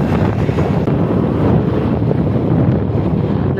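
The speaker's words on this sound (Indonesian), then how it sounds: "ini saya berangkat naik motor, nggak naik mobil ya" Steady, loud wind buffeting a microphone while riding a motorbike on a short trip near a hospital, a continuous broadband roar with no voices.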